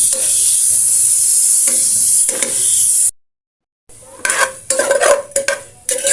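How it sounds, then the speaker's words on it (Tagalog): Meat sautéing in hot oil in a pan sizzles loudly and continuously, then after a brief silence comes a sharper crackle broken by spatula scrapes and stirring clatter; no one speaks. "Lalagay na natin yung ating karne. Gigisa lang natin to mga sis. Pagmantikain natin."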